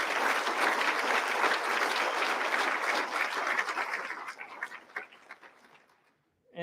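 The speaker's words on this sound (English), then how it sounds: "Let's give a round of applause for the principals and staff that do the hard work" An audience at a school district address claps for principals and staff. The dense, sustained applause fills a hall, then thins out to scattered claps and fades to silence.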